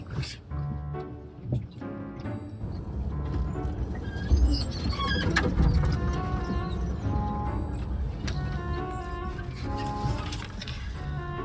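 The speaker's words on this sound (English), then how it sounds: "I'm vlogging how bumpy this road is." A vehicle crawls along a rough, bumpy gravel road passable only by four-wheel drive, with a steady rumble and jolting rattles beneath a person talking, plus occasional bird calls in the desert surroundings.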